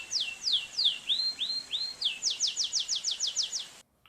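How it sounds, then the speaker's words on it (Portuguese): A bird chirps alone in a fast series of short, high, bright calls, some sweeping down and a few rising, steady and fairly close before the sound cuts off near the end. "É um pássaro, certo?"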